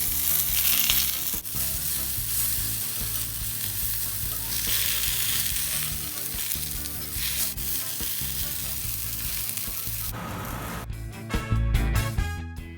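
Eggplant for bharta sizzling steadily as it cooks covered in a hot pan, a continuous loud frying hiss with crackles, then a clatter of a lid or utensil near the end.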